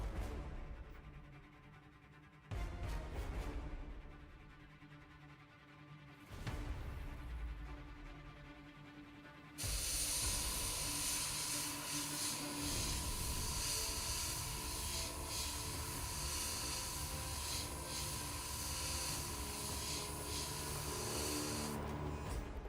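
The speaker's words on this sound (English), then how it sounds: "We're just going to spray like one half of it." Spray paint hissing from an aerosol can onto one half of a miniature in Scrag Brown, starting with short separate bursts and then one long continuous spray, close and steady with no speech.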